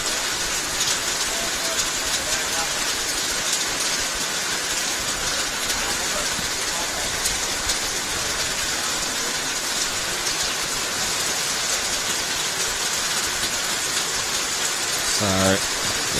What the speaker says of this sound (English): And that is very heavy rain.